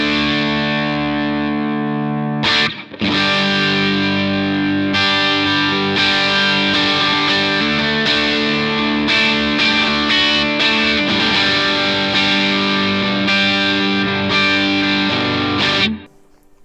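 Bright, chimey electric guitar plays chords and notes through a Vox AC30C2 amplifier's top boost channel, controls at halfway, with light reverb, loud and continuous, stopping abruptly at the end.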